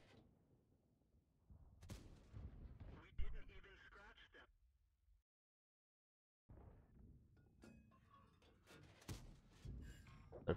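Sheridan light tank cannon fire in a video game, sharp bursts cutting through busy battle noise, with a gap of silence midway and loud impacts near the end while a voice talks over parts of it.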